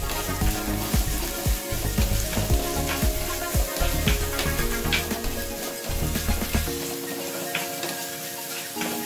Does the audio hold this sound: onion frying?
yes